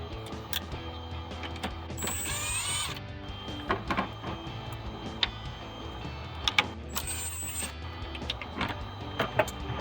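T20 Torx screws being driven out of a 2019-2023 RAM 1500 mirror cover with a power tool, two whirring bursts of the driver among close clicks, rattles and handling noises.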